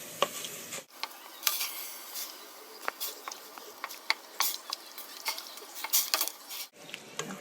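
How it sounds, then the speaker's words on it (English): Ground turkey is mashed and stirred in a frying pan, with a steady sizzle and scattered clicks and scrapes of a utensil on the pan, a brief quiet break at the start and close to the end. "Once I've placed the ground turkey in there, I'll just go ahead and mash everything up"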